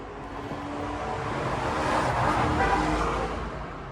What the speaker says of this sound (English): Someone drives 60 miles an hour down the road